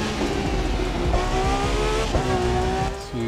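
Dodge Hellcat engine in The Crew 2 racing game, a steady loud roar with rising and shifting revs, continuous and close, with no talk over it.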